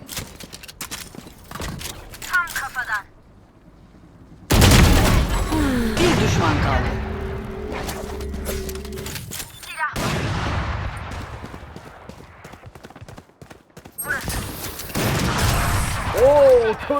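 Gunfire in the video game Valorant, repeated shots and bursts over about seventeen seconds with a quiet stretch in the middle, while players talk over it.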